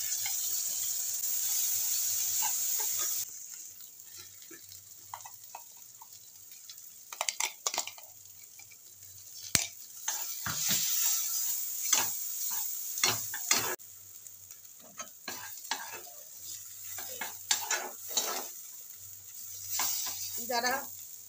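A spice paste of onion, garlic and green chilli hits hot oil in a pan, giving a loud sizzle followed by bursts of frying crackle and stirring scrapes, close and uneven.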